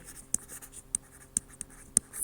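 Chalk or marker on a classroom board during a lecture, five short sharp taps and scratches at irregular intervals, faint and near, with no voice.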